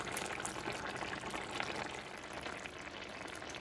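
Bison stew with potatoes simmering in a cast iron pot, a steady soft bubbling and hiss that holds evenly from start to finish with no voices.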